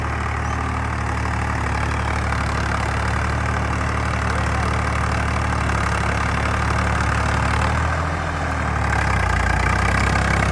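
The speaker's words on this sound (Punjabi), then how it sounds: "ਟਰੈਕਟਰ ਦੀ ਆਵਾਜ਼ ਵੀ ਚੈੱਕ ਆਪਾਂ ਸਕਦੇ" A tractor's heavy diesel engine idles steadily and loudly up close, a constant low rumble with a slight dip near the end.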